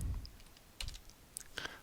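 Fingers type on a computer keyboard while a spreadsheet formula is entered, a few soft, sparse key clicks up close, faint and with no voices.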